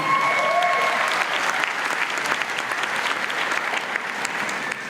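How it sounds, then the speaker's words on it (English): Graduation ceremony audience applause at Murdoch University in Dubai, a full, sustained roar of many hands clapping evenly throughout, with a brief high tone briefly audible near the start. "A round of applause there too, I think."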